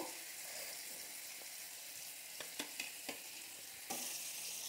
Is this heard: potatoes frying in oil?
yes